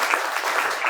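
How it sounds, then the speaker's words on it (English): A room full of people claps in a dense, steady round of applause, loud and continuous for a brief moment. "I give a round of applause to Avraham Cohen."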